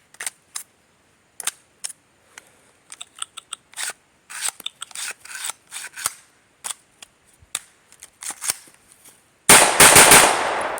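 A 9mm AR rifle with an extended OEM Glock magazine during a mud test: scattered sharp clicks and clatter of handling build into rapid bursts, ending in a loud sustained blast of fire at close range.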